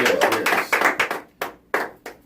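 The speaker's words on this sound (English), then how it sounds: "Hand clap for that." Hand claps on a podcast marking a DJ production company's tenth year come in a quick run of sharp, close claps, then a few spaced single claps that trail off.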